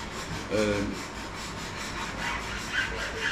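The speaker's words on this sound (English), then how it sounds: "what I'm going to do is just take the file to the knock point on the end here" A file rasps back and forth across the nock end of a wooden longbow in steady repeated strokes, close and scratchy.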